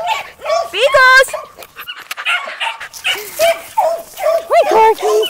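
Several pocket beagles barking, yipping and whimpering in bursts, with a few howl-like rising cries, close and fairly loud.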